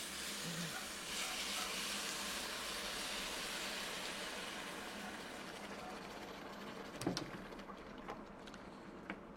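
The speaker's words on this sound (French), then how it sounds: "Et maintenant, j'ajoute un litre de bouillon de volaille" Chicken broth poured into a pot of vegetables sizzling in oil: steady broad frying hiss throughout, a brief louder splash and crackle burst near the end as liquid hits the hot pan, no talking.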